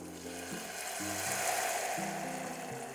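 Risotto rice simmers in vegetable stock for a garden risotto with broccoli and peas. It gives a steady, fizzing sizzle under soft background music, with no one speaking.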